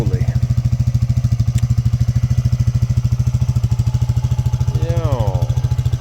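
A Polaris Hawkeye ATV fitted with larger 25-inch tires runs its engine close by, a loud, steady, pulsing thump throughout, while a voice briefly speaks over it.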